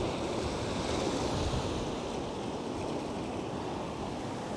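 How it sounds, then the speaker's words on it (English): Ocean surf rolls onto a shore in a continuous broad wash, steady and moderately loud, with wind buffeting the microphone and no voices. "Every now and again you get a wave that comes a little bit closer in."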